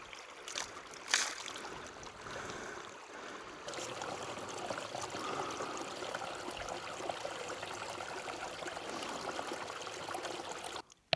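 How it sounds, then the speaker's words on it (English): Steady running water from a stream on Dartmoor rushes and trickles continuously, with a brief thump early on and no voices. "That is running water."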